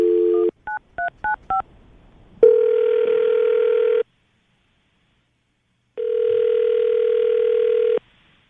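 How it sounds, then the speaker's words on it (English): Telephone call being placed: a short burst of touch-tone dialing beeps, then two long steady ringback tones separated by a silence, loud and close, with no talking. "Ben, we're going to call her right now, see if we can get her on the phone"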